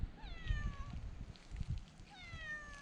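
A cat meowing indoors in a barn conversion, two drawn-out meows at the start and end, close and clear over faint rustling background.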